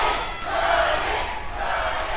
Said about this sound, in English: Chris Cook rallying the crowd.